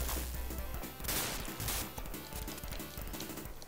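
Sega Genesis Mighty Morphin Power Rangers gun firing, a quick run of crunchy shots amid fight music and hit effects, fairly faint overall.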